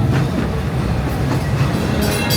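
Steady rumble of the Walt Disney World Railroad train ride at Magic Kingdom from inside the car, with rhythmic wheel clatter and rattling, loud and continuous.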